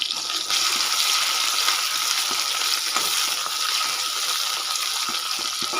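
Garlic sizzles in hot oil in a home kitchen, a steady loud frying hiss that runs throughout with scattered faint clinks and scrapes underneath.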